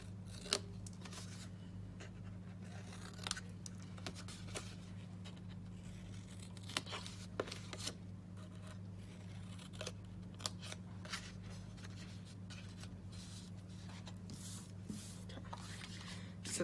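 Scissors snip tabs off a paper gingerbread man box in scattered, faint, close cuts over a steady low background hum.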